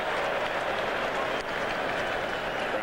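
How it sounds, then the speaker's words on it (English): Baseball stadium crowd at a 2002 MLB NLDS playoff game, St. Louis at Arizona, sustained as a dense, steady roar of cheering that holds near-constant loudness throughout, with no clear talk above it. "Crowd looking for the strikeout"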